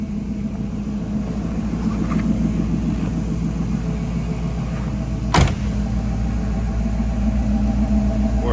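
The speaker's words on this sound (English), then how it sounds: "Let's hop out and give a listen to those tailpipes" A 1979 Pontiac Formula Firebird idles indoors in a showroom, its tailpipe giving a steady low rumble with a rhythmic pulse, broken once by a brief sharp knock.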